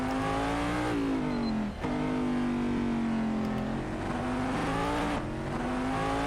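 A Corvette DP race car engine at Silverstone GP in Assetto Corsa whines at high pitch, rising through the gears with brief dips at each shift, loud and continuous.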